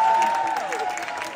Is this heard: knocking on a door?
no